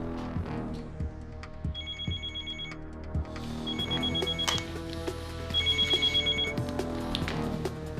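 A telephone rings in repeated bursts of a bright electronic bell, three rings spaced a couple of seconds apart over a busy indoor background with soft clatter.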